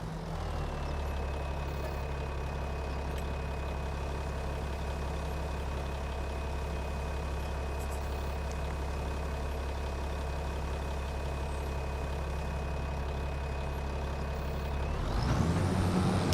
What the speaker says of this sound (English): the engine would go away, but you could still hear the tires rolling on the dirt